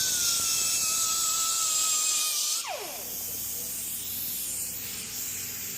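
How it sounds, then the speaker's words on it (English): Brake cleaner sprays onto the engine block of a 1979 custom Ford Bronco with a 460, a loud close hiss lasting a couple of seconds before it stops, then quiet shop ambience. "I'll take some brake clean, and I'll go over it with a rag."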